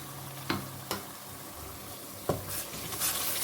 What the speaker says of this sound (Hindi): बस इस मसाले को अच्छी तरह 1 से 2 मिनट अच्छी तरह भून लेते हैं